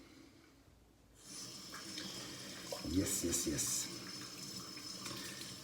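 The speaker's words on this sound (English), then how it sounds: "Go and rinse that right off." Tap water starts suddenly and keeps running steadily into a sink as shaving cream is rinsed off a razor, with a brief swell of splashing midway and a single spoken word.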